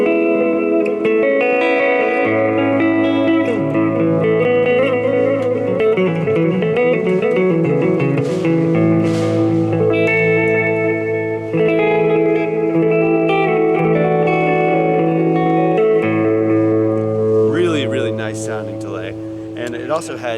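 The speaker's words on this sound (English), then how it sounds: "I use it for an analog delay that's tap tempo." An electric guitar played through a Source Audio Collider pedal set to tap-tempo analog delay rings out with sustained, echoing repeated notes across a long loud passage, with a voice talking over part of it.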